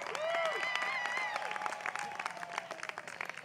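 Applause from an audience at a Chico State commencement ceremony, honoring a student speaker: dense, steady clapping across the whole span with a few whoops and cheers rising over it, gradually thinning toward the end.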